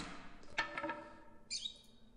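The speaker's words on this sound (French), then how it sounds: "il y a un petit oiseau, c'est trop mignon" A small red bird in the video game Virginia gives faint, quiet chirps, a short cluster of tweets followed by a higher, thin call, with no one talking.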